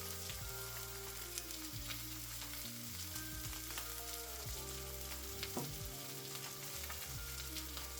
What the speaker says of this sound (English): Saute this for about 2 minutes.